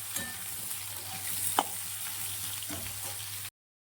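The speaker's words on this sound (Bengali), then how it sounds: "গ্যাসটা এখানে আমি জোর আঁচেই ভাজছি।" Cut potatoes fry in a pan over a high gas flame, a steady close sizzle broken by a few sharp stirring scrapes, then silence at the end.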